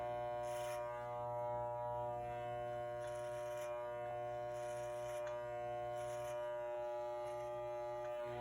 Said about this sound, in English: Now I'm going to adjust my clipper.